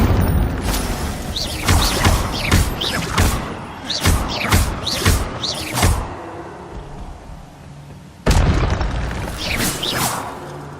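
Incendio fire spell cast in Hogwarts Legacy, a run of sharp booming bursts and thuds that come in quick clusters, with a fresh heavy blast near the end.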